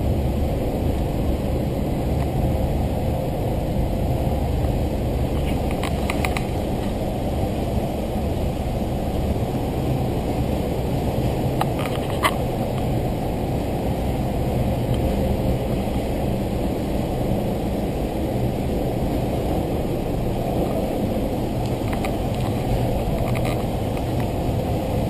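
Adler paratrike engine running at a steady drone, a continuous low rumble with no gaps and no voices over it.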